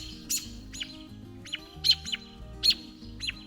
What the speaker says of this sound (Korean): 근처에 머물면서 어미새와 아빠새가 시끄럽게 경고합니다.